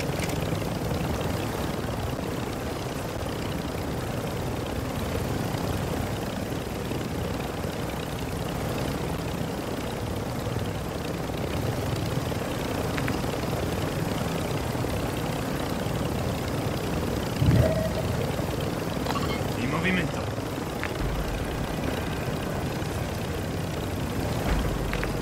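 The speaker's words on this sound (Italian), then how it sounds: "Ultra 1, elicottero di supporto nemico in volo in quella direzione." An enemy support helicopter flies in the game DMZ, a steady rotor and engine drone that fills the background throughout at moderate loudness, with brief clanks and effects over it.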